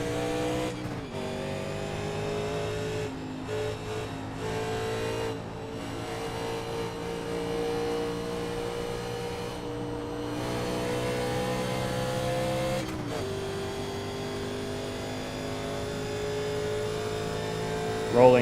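A heavy 1987 Legends Series race car engine drones steadily through warm-up laps, loud and close with a sustained rich tone and brief shifts in pitch as the throttle changes.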